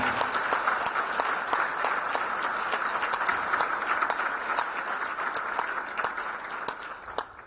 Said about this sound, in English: please, a large, warm round of applause for this panel